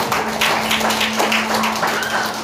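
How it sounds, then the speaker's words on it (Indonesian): A church congregation claps together at a worship service, the claps coming in rough rhythmic bursts over a steady low electrical hum in the hall. "Yang percaya tepuk tangan buat Tuhan."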